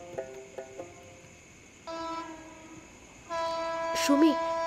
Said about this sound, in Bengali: ট্রেনের হুইসেল শোনা যাচ্ছে